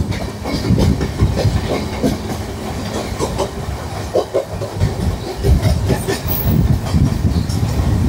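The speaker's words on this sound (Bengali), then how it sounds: "হাওড়ার ইলেকট্রিক লোকো সেট।" A Howrah electric locomotive set passes on the railway track beside a train, with wheels clattering and rumbling in steady, loud rhythmic clicks close by and no talk over it.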